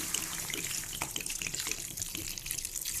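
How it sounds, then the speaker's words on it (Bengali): Water is poured into a pot of thin, tangy tomato curry, making a continuous splashing, hissing pour that runs steadily from start to finish, close and fairly loud with no talk. "এবার এর মধ্যে আমি জল দিয়ে দেবো, যতটা ঝোল লাগবে আমার"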